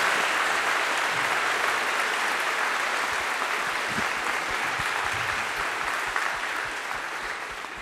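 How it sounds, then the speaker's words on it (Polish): An audience at a school's 150th jubilee gala in Kraków applauds in a dense, sustained wash of clapping that fades slightly toward the end, with no voices over it. "Brawa dla Państwa, dla wszystkich Państwa."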